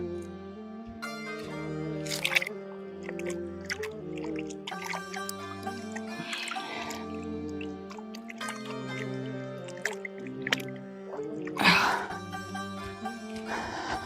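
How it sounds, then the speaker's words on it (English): Water running and dripping as cob-covered hands are rinsed off during natural building of cob walls, soft splashes and trickles with a few louder splashes, close and alone. "All right, so now I'm gonna rinse my hands."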